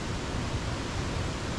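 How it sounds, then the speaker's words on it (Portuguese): Cachoeira Esmeralda waterfall in Roraima, a close, steady broadband rush of falling water filling the whole short stretch without a break, with no voices over it. "Cachoeira aí, linda aí, ó."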